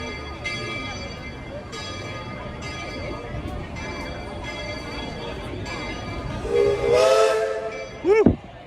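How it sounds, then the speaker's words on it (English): Steam train whistle at Magic Kingdom toots loudly near the end, a rising tonal blast followed by a short second toot, over steady park crowd chatter and ambient noise. "Got a train station, train choo-chooing above us there."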